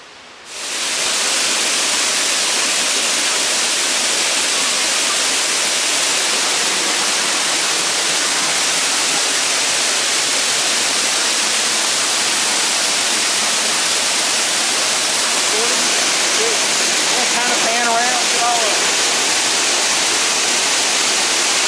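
A waterfall roars steadily, a broad continuous rush of falling water heard close and loud throughout, with no voices over it.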